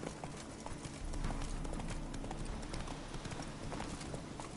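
Geralt's horse Roach gallops in The Witcher 3 video game, a fast, continuous drumming of hooves with a driving rhythm and some rumble beneath it, close by and without any talk.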